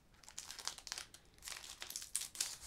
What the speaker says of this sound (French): Ils sont vachement durs à ouvrir, les boosters.